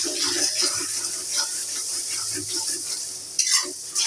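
Onion with ginger and garlic frying in a pan, a steady sizzle with scraping stir strokes throughout and a sharper stir burst near the end.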